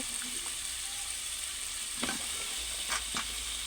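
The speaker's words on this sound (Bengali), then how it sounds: "আমি একটা আলু এখানে দিয়ে দিচ্ছি, দিয়ে হালকা একটু কষিয়ে নিয়ে" A potato sizzles softly as it is lightly sautéed in a pan, a continuous frying hiss with a few brief stirring clinks near the end, no voices.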